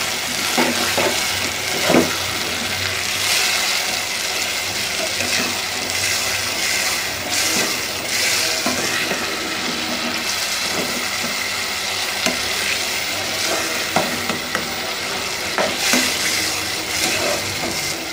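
Onions, green chillies and tomatoes sizzle steadily in a pan for an egg masala curry, with repeated scraping and stirring strokes over continuous frying hiss and no talk.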